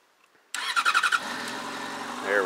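A 2009 Yamaha FZ6 motorcycle engine cranks with a quick series of starter pulses, then catches and settles into a steady, close idle that continues to the end.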